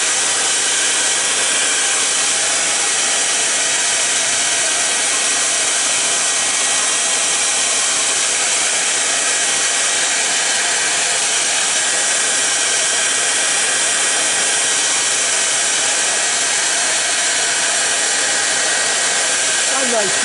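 A blow dryer runs steadily and loudly for about twenty seconds, drying a freshly colored wooden top turned on a lathe, a constant close whooshing roar with no pauses.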